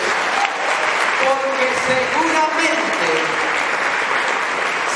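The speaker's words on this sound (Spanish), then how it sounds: "Denle un aplauso a la gloria de Dios" A church congregation at a holy hour service applauds steadily and loudly for five seconds, with voices and a preacher's speech running over the clapping.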